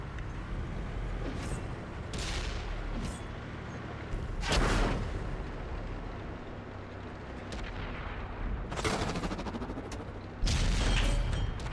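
Tank cannon shots in World of Tanks, a VK 45.02 B firing at targets some 300 meters off, sounding as several sharp, heavy booms spread across a continuous rumbling battle background, with no talking.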